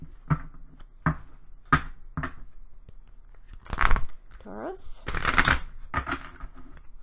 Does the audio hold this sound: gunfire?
no